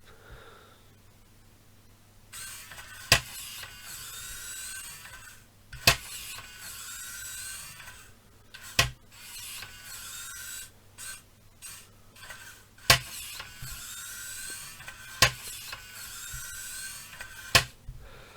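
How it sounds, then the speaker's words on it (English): A small gear motor on a model Volvo A40D articulated dump truck whirs quietly as it tips the bed, with a faint steady hum broken by a series of sharp clicks and creaks at irregular intervals. "our pretty slow gear motor is actually fairly fast when it's on this"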